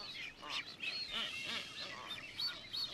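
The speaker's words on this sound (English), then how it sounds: "Punta Vicente Roca is the site of one of the big blue-footed booby colonies." Blue-footed boobies call from a large nesting colony at Punta Vicente Roca on Isabela, giving several faint, repeated whistling and honking cries that rise and fall at a distance.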